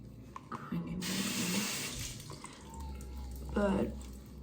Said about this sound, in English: but first I'm gonna wash my face